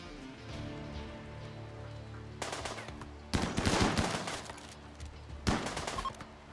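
Gunfire in the video game RimWorld crackles in dense bursts, with several rapid volleys of shots standing out over a quieter steady background.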